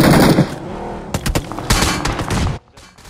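Rapid bursts of gunfire rattle through a battle royale match, with dense automatic fire that comes in clusters, then cuts off sharply near the end.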